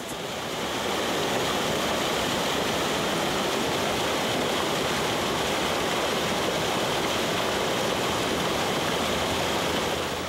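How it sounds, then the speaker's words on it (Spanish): Steady broadband rush of the Manzanares river flowing down from Turumiquire, a continuous loud wash of water close by with no voices. "este río baja del Turumiquir"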